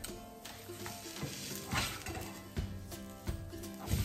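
Maruya banana fritters sizzle and crackle in a hot pan after being flipped, with a few soft utensil scrapes rising over the steady close frying hiss.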